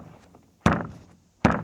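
Two sharp, solid thunks about three-quarters of a second apart as a paddle board fin is banged into its slot, each hit loud and close with a short ringing decay, quiet room tone between.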